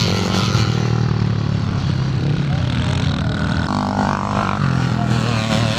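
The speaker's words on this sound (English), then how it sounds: "Stuart Riddle coming through on the twin port CZ." Old Czechoslovakian twin-port CZ two-stroke motocross bikes racing at a classic meeting in Forfar, Scotland, a continuous loud buzzing engine drone with revving surges, heard under a commentator's voice.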